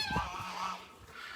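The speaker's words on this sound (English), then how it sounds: "in here we have the mature ducks, so the older ducks" Mature farm ducks in a pen give loud, nasal honking calls close by, one short cry followed by a longer drawn-out call.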